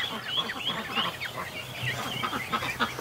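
Muscovy ducks call from indoors, giving a fast, overlapping series of soft, breathy chirps and clucks. The calls are faint but continuous.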